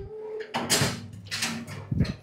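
A metal drawer on a mobile pedestal filing cabinet slides open with a short rolling rasp followed by a couple of knocks and clunks, close by and fairly quiet.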